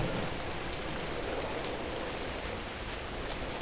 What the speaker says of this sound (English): Oh, it looks like it's raining.